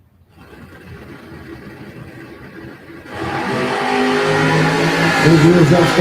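Drag race cars, a pickup S10 and a 1969 Chevy Camaro, rev at the line, then a loud roar swells as they launch and hold steady, with a commentator talking over the engines throughout.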